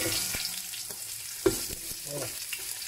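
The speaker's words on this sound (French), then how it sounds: "Vous retirez vos viandes et là vous ajoutez l'oignon coupé en quatre" Quartered onion sizzles in a pot after the meat for pot-au-feu has been taken out, giving a steady frying hiss. A spoon stirs and scrapes at intervals, with one sharper knock midway.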